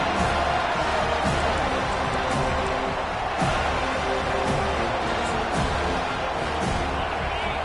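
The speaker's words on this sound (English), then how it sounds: "This crowd, full throat, splitting the eardrums" A roaring football stadium crowd at an FSU versus Michigan game, a loud, sustained wall of cheering that fills the whole stretch, with an announcer talking over it.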